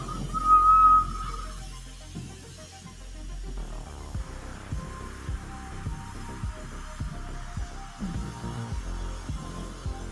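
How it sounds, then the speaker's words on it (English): A small glassblowing torch flame gives off a brief, thin, steady whistle near the start, over a low roaring hiss, followed by faint clunks and clicks. "Oh, we got a tiny little whistle."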